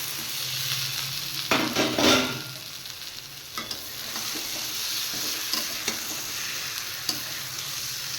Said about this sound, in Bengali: এবার আমি ভেজে রাখা কাঠ আলু আর মাছ একসাথে দিয়ে দিচ্ছি।